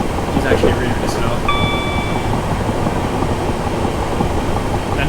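A slow stopping-service passenger train in Train Simulator 2018 on the Guildford to London Waterloo route, a steady loud rumble of wheels and motor with a brief high whine partway through.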